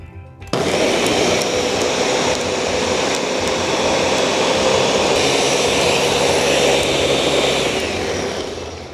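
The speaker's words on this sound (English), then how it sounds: "And then we're gonna blend this bad boy." A blender purees sorrel pulp for jam, starting abruptly and running as a loud, steady, high-pitched whirring roar for several seconds before easing off slightly at the end.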